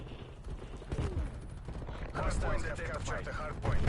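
A light machine gun in Call of Duty: Cold War firing at a very high rate, bursts of rapid shots over background battle noise, with a voice talking over parts of it.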